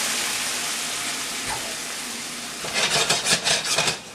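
Shrimp stock poured into a hot pan of cooking garlic: a steady hiss through the first half, then a louder bubbling, spattering sizzle with rapid bursts toward the end.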